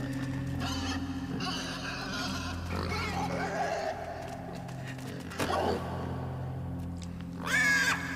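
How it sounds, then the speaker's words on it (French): A pig grunts and squeals in the video game INSIDE over a steady ambient game hum, in scattered bursts with a louder cry near the end. "se faire défoncer par le cochon avant qu'il défonce la porte"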